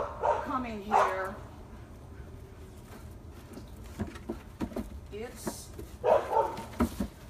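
A dog barks in a few short bursts near the start and again toward the end, with people talking in between and over it.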